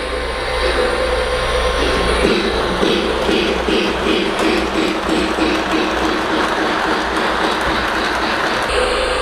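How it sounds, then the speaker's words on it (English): A Lionel Polar Express O-gauge model passenger train runs steadily along its track, a loud, close, continuous rumble with rhythmic clicking of wheels over rail joints and no talk. "I need to run the Polar Express passenger train by there to make sure I've left enough space"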